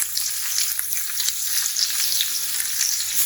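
Butter foams and sizzles hard in a hot steak pan, a dense, close, continuous crackle with no talk.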